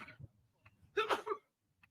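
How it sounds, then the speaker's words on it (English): A reporter at a Kansas court hearing sneezes once, a short sharp burst heard faintly from across the room, with quieter throaty sounds before it. "Bless whoever was sneezing"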